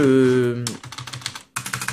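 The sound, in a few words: typing on a found computer keyboard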